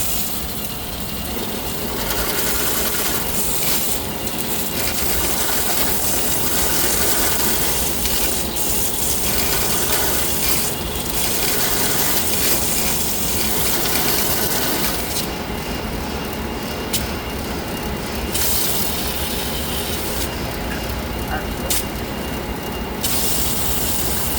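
Drain cleaning cable machine spinning in reverse to clear a backed-up factory drain, a steady loud mechanical whir and rattle running throughout with a hose hissing at times, no talk.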